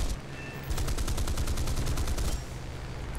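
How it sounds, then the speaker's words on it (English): Rapid automatic gunfire from an aircraft gunner in the War Thunder combat flight game, a sustained fast rattle of evenly spaced shots lasting under two seconds over a loud steady engine drone. "Ooh, he's got a gunner shooting me."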